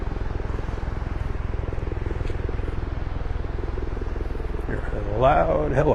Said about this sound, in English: Hear a loud helicopter.